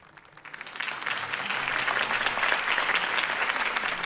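A crowd at a campaign speech in a Batman video game breaks into applause. It rises quickly from quiet and settles into a steady, dense clapping that continues to the end.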